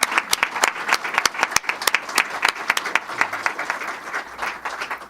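Audience members at a state press conference on substance abuse treatment give a round of applause: sharp, distinct claps form a fairly sparse, uneven patter that lasts the whole stretch.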